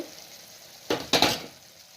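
Onions dropped into a hot pan with chicken and stirred, giving two quick loud sizzling bursts close by over a low steady frying hiss.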